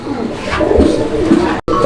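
A caged pigeon at a pigeon market coos in low, throaty repeated calls close by, with some background voices and a brief dropout near the end.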